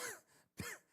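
A man with a hoarse voice, speaking at a church talk, gives two short raspy throat-clearing coughs, close and fairly soft, separated by a brief silence.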